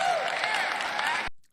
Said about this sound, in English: Listen to people clap.